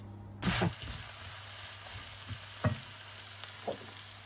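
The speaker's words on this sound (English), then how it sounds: "that's the onions, bacon and mushrooms in there with the olive oil and some butter" Bacon, onions and mushrooms frying in olive oil and butter, giving a steady low sizzle with a few sharp spits and pops of stirring scattered through.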